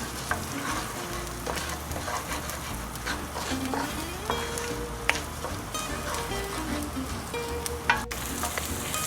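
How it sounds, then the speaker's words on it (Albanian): Orzo pasta frying with onion in a pan: steady close sizzling and crackle throughout, with scraping stirs and small clicks of a utensil, no talk. "Dhe do t'i lëm që të skuqen bashkë me qepën."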